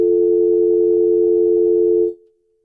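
A steady, loud single-pitch telephone tone sounds during an attempted phone call, then cuts off abruptly and fades to near silence.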